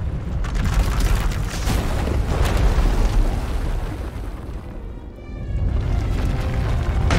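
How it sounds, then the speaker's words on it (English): A runaway power eruption tearing through an asylum in the SWTOR video game, heard as a sustained, loud roaring explosion with rumbling debris that dips briefly and then surges again. "When it erupts, the entire asylum will be destroyed."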